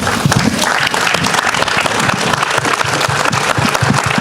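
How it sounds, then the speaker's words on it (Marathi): An audience bursts into loud, sustained applause at an emotional public event honoring a film actor, the dense clapping continuing unbroken throughout. "रितेश सरांसाठी एकदा जोरदार टाळ्या झाल्या पाहिजेत"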